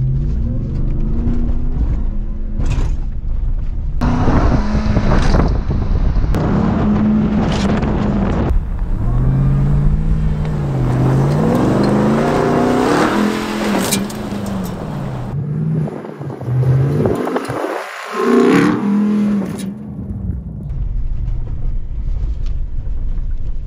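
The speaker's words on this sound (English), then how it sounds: "I'm just gonna come down with more speed and then we'll go full throttle" A Ram TRX pickup truck runs at full throttle while lining up for a jump, its engine note rising and falling loudly and close up amid heavy wind buffeting, with no talking.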